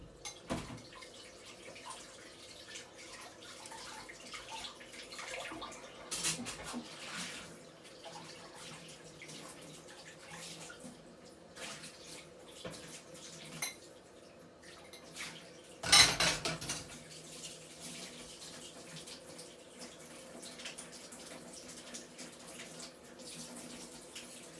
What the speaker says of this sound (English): In the meantime, you can wash up the bowl.